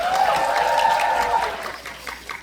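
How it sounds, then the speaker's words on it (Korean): An audience at the closing-night stage greeting of the musical Mahagonny applauds the band, a dense burst of clapping that swells and then thins out, with a voice briefly sounding over it. "여러분 박수 한번 주시겠어요?"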